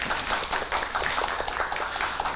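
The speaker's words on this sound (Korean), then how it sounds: "두 분에게도 박수 보내주시고요" A film festival audience applauds two film directors on stage, with dense, steady clapping from many hands filling the room for a couple of seconds.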